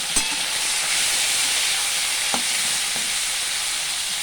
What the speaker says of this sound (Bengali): তো চিংড়ি করার জন্য আগে মাছটা ভাজি